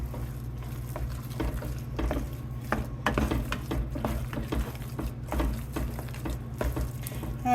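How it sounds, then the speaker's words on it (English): Potatoes being stirred in a Le Creuset pan with half and half, heard as steady spoon scraping and soft clinks over a continuous low sizzle, close and moderately loud, with no speech. "And I just keep stirring them."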